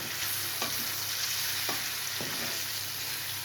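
Onions sizzle steadily in a hot pan, with a few sharp spatula scrapes and taps breaking through the continuous hiss; no one speaks.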